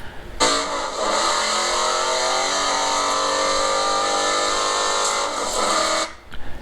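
A race car accelerating on a track, a loud close engine note holding a steady sustained drone for several seconds before cutting off near the end.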